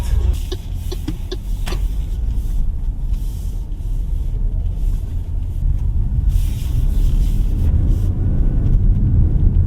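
MG One 1.5 turbo car driving on the road, heard from inside the cabin: a continuous low engine and road rumble that swells gradually, with a few light clicks early on.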